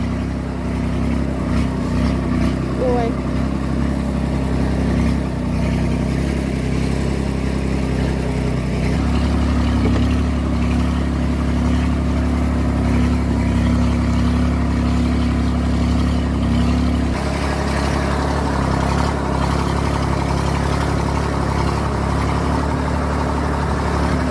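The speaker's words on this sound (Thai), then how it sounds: "จะดังๆหน่อยนะคะ เพราะว่าตอนนี้อยู่บนรถไถนะคะ" Farm tractor engine drones steadily and loud throughout while driving along a waterlogged rural road after a storm, a constant low rumble with rattling and no talk.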